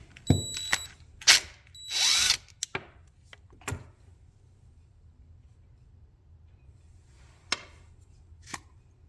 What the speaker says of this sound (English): taking this nut off here, or bolt rather, for the bowl